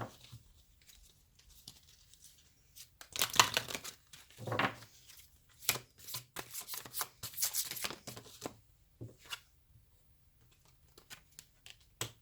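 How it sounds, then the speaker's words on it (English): Tarot cards are shuffled and drawn from a deck, giving a string of close, crisp riffles and paper flicks in bursts, with quiet pauses between them. "I'm just going to get another card here."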